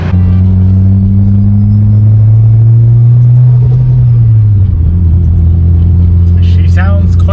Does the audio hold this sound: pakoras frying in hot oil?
no